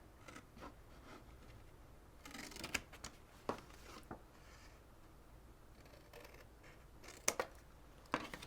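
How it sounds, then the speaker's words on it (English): Scissors cut the scored outer parts of a paper box for a stationery box, with quiet snips and crisp clicks scattered irregularly over several seconds, close and faint. "all these outer parts here are going to be cut"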